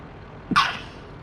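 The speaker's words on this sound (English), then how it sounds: "I'm gonna sneeze" One quick, sharp sneeze bursts out close to the microphone during a World of Tanks gaming session, then fades back into a quiet background.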